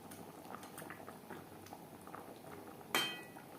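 Snakehead fish and potato curry simmers in a pan, a faint, quiet bubbling and burbling, ending with a sharp metallic clink of a utensil against the pot near the end.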